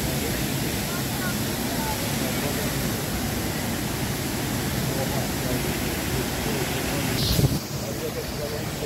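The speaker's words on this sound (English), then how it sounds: "You can feel the sound of rushing water." Water rushing and crashing at Düden Waterfall in Antalya, a dense, steady roar that fills the whole clip, with a brief louder rustle near the end.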